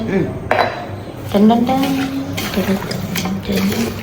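Chicken being mixed with turmeric and coriander powder for Malabar biriyani, with close, fairly loud clatter and scraping of a spoon or hand against a metal dish, a few brief voices in between.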